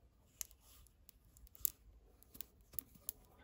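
Silicone sealant is pried and torn apart while a car engine ECU housing is opened, giving faint, sparse clicks and snaps at irregular intervals over near silence.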